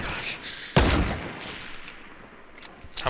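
Gunfire in the Fortnite video game: one loud, close burst at the start is followed by a few fainter, sharp shots scattered behind it, with no talking.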